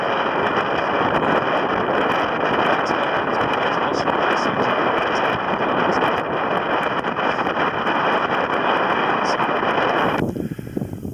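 Strong, steady wind roars across the microphone high on a frozen, fog-bound Synnfjell mountain in whiteout conditions, a dense unbroken rush that eases only in the final second.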